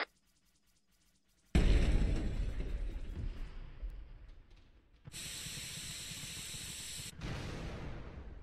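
A frag grenade goes off in ARMA 3, a sudden loud burst of noise after quiet that slowly decays, followed by a second sustained hissing blast and a further stretch of noise.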